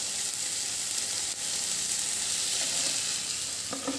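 Mutton frying in a pan gives a loud, steady, hissing sizzle that runs throughout, with a faint clink or stir near the end.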